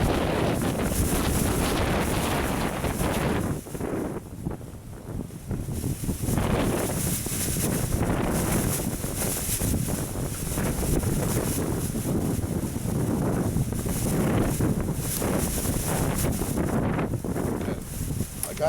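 Strong outdoor wind buffets the microphone in continuous rough gusts, loud and close, with brief lulls and a faint voice now and then beneath it.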